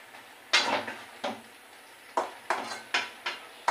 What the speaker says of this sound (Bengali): সামান্য একটু আর নাড়াচাড়া দিয়ে নাড়তে দেবো।